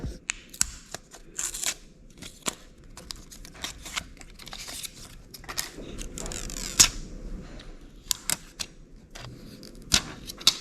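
A GoPro Hero 10 camera being unboxed and handled close up: scattered crisp clicks, taps, rustling packaging and plastic scrapes in a quiet room, with no speech.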